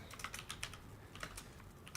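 Rapid, steady keyboard typing with a continuous patter of key clicks, close and fairly quiet over a low background hum.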